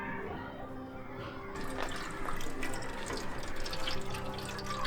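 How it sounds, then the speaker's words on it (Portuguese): Fresh water is poured into a jar, a steady splashing and gurgling stream that runs continuously and grows slightly fuller toward the end. "Agora vamos colocar água doce dentro do pote"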